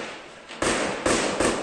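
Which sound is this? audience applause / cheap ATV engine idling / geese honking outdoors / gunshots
gunshots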